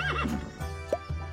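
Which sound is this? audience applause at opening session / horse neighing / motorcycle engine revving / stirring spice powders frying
horse neighing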